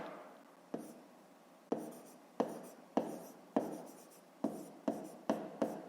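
Pen writing out a fifth-grade math solution, a series of soft close strokes with sharp taps roughly every half second, quiet and alone.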